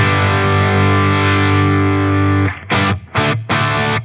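Electric guitar through an Eventide H90 pedal on a ballad lead preset with drive and noise gate rings out as one long sustained distorted note, then three short choppy stabs cut off sharply, loud and alone.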